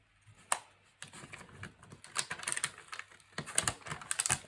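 Tape is peeled from a Graphic45 Farmhouse closure album under construction, giving close, quiet crackling and ripping bursts in short irregular spurts, with no speech.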